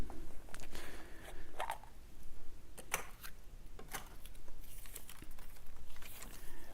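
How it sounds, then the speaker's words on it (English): Draw balls are shuffled in a container at a European handball championship draw ceremony, giving a continuous rustling, crinkling clatter with scattered sharp clicks, moderately close and steady throughout. "I will just shuffle the balls and ask Mr. Jurkovic to take the ball."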